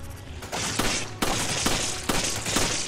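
Gunfire from the Resident Evil 5 video game: a few sharp, loud shot bursts stand out over a dense, continuous layer of game noise and rumble, with no talking.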